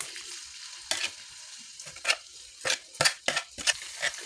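Garlic sautés in hot oil for a chicken pastil dish, a close sizzle broken by frequent stirring scrapes and utensil knocks against the pan, with no voices.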